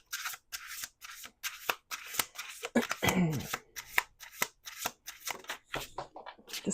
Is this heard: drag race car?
no